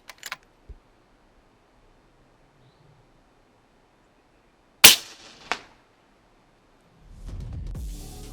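Rifle shots fired at hyrax among rocks outdoors: two sharp cracks, one strong and a softer follow-up about half a second apart, preceded by faint clicks and followed by wind rumble.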